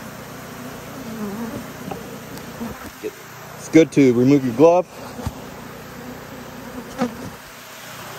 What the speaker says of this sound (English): Now we're left with a bunch of bees.